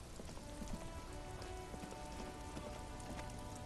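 Steady rain in the video game Disco Elysium, a dense, even hiss of drops on surfaces that holds constant throughout with no speech.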